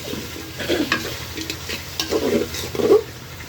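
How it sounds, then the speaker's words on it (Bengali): Onions and potatoes frying together in a pan for a shortcut khichuri, with a soft steady sizzle and a few scraping stirs of a spatula, close and alone. "পেঁয়াজটাও লাল লাল হয়ে যাবে, আলুটাও ভাজা হয়ে যাবে, ভেজে নিই।"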